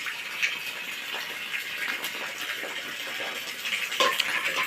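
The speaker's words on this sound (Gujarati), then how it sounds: "વરસાદ ચાલુ જ છે હવાનો અવાજ કેટલો આવે પાણીનો" Steady rushing hiss of monsoon rain, wind and flowing water, close and continuous, with a few faint clinks in the background.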